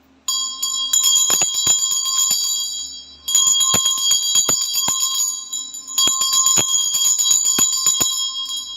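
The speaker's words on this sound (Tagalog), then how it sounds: "Bago ako mag-reading, magbabatingting ako ha. Hinaan mo ang volume mo kasi maingay to." A bell is rung three times before a tarot reading, each strike bright and ringing with long sustained overtones that fade between strokes, loud and alone with no talking.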